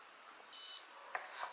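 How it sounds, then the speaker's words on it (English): A HOMY 1500ml touch-screen humidifier gives a single short, high-pitched buzzer beep on power-up standby, clear and close in a quiet room, followed by a couple of faint clicks. "Connect the power and the buzzer beeps means standby mode."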